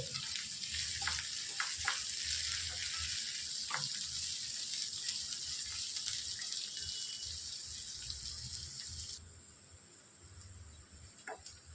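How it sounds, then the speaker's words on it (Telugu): Mustard seeds and finely chopped onion fry in a pan for bun dosa, a continuous hissing sizzle with scattered small pops and crackles, close and moderately loud, easing to a quieter level near the end. "సన్నగా తరిగి తీసుకున్న ఒక ఉల్లిపాయను కూడా వేసుకొని బాగా ఫ్రై చేసుకోవాలి"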